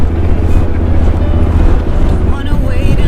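Strong wind gusting across a beach near the road to Nordkapp in Denmark, a loud continuous rumbling roar buffeting the microphone, with faint voices in the background.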